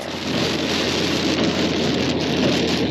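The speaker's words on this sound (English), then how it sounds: "This rain has been wild the entire time." Heavy rain pours onto a stopped car on a long road trip, a loud dense steady hiss and patter filling the whole stretch with no voices.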